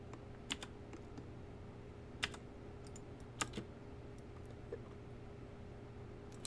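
Typing on a new computer keyboard: scattered soft key clicks, sometimes in quick pairs, over a constant low hum, fairly faint and irregular.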